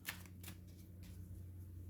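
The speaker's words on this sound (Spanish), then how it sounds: "barajar el mazo de héroes" A deck of hero cards for the board game Hidden Leaders is shuffled, giving a quiet brief riffle with a couple of soft snaps over a low hum.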